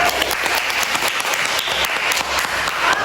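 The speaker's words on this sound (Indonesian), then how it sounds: "Sebelum kita masuk, aplaus dulu" Students in a junior high school classroom applaud together, a steady burst of clapping that fills the whole short stretch with no voices over it.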